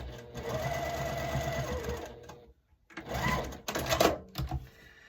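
A sewing machine stitches a quilt block in rapid mechanical bursts, running steadily, pausing briefly into near silence, then starting again with a couple of short runs, close and clear.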